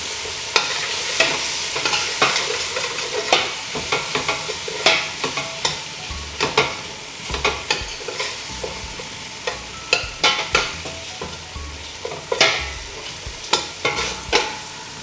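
Crushed dried fish fries in a pan while a utensil stirs it, sharp scraping strokes recurring every second or so over a steady close sizzle, with no talking.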